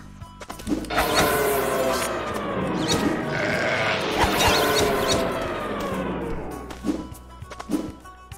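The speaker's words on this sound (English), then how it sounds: "The last sheep." Sheep bleating in the video game Ty the Tasmanian Tiger 4, a long, loud, wavering bleat that swells and holds for several seconds, followed by a couple of short thuds.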